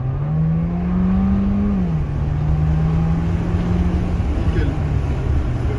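A Mercedes A 250e AMG Line accelerates hard on a road, its engine a steady, rising drone heard from inside the cabin with road and wind rumble, dipping briefly as a gear changes before climbing again.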